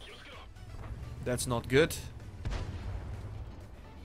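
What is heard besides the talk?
tank ammo rack explosion in World of Tanks video game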